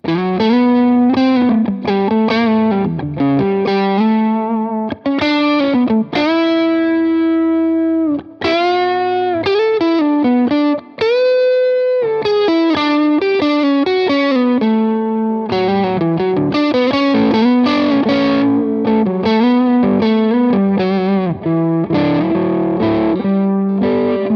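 Electric guitar with mild fuzzy overdrive runs through an Orange amp and Tone King Imperial preamp, playing a continuous riff of chords and single-note lines with brief stops, loud and up close.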